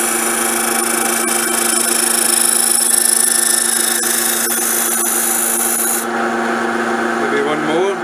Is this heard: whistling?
no